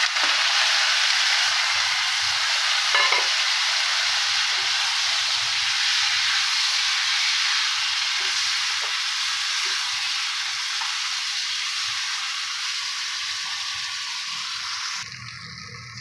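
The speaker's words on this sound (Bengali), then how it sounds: "এবার আবারও তেল দিয়ে দিলাম আর চিংড়ি মাছটা ছেড়ে দিলাম।" Shrimp frying in hot oil gives a loud, continuous close-up sizzle that holds steady and fades slightly before stopping near the end, with no talking.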